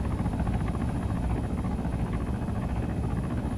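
A helicopter in the Arma 3 video game, a steady loud rotor drone with rhythmic low thumping, continuous throughout without talk.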